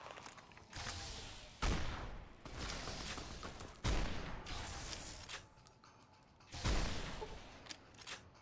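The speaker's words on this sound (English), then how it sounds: "it only took 6 50 cal shots to take him down" Heavy .50 caliber rifle shots fire in Fallout New Vegas, a handful of sharp booming reports spaced a second or two apart with mechanical clatter and faint background game noise between them.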